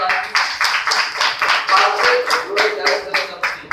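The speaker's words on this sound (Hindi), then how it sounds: "मैं चाहूंगा वेस्टीज के लिए एक बार जोरदार तालियां" An audience at a Vestige direct-selling business presentation claps in brisk rhythmic unison, loud and close, roughly a dozen beats over a few seconds.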